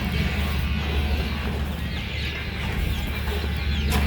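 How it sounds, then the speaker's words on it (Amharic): Chickens at a rural house with a poultry-raising area cluck faintly and steadily beneath a constant broadband background hiss, with no one talking. "ዶሮዎች አሉ።"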